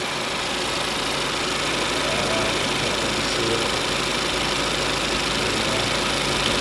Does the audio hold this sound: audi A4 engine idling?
yes